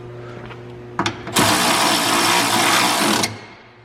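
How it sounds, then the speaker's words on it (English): A tool tightens a loose ground bolt on a Honda Civic: a couple of close clicks, then a loud, steady whirring burst of about two seconds that stops abruptly. "Ooh, this one's actually loose. Let's just tighten that one quick."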